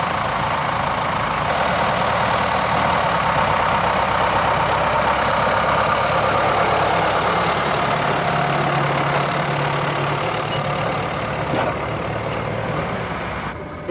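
A Ford tractor drives a hydraulic lime spreader with spinning discs, making a loud, steady engine drone with a rough, knocking texture that runs unbroken from start to finish, with no voices.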